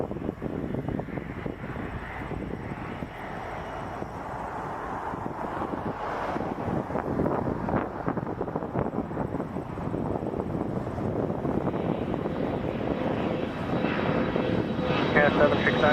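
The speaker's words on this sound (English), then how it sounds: "Dash 8 Q400." A Jazz Dash 8 Q400 turboprop at Toronto Pearson drones steadily with a thin high whine, building slightly louder toward the end, mixed with wind buffeting and talk over it.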